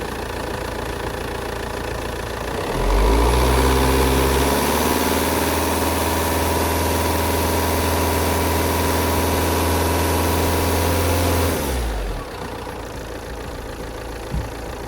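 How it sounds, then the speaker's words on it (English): An Alfa Romeo Giulietta car engine at idle is revved up and held at a steady higher speed for several seconds, then drops back to idle, a loud sustained hum close by. "So I'm just going to build the revs up now"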